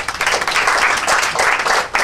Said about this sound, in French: on vous demande d'applaudir M.